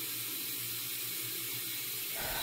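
Steady broadband rush of water from a bathroom sink tap while someone rinses their face, continuous and fairly close, with a change in splash near the end.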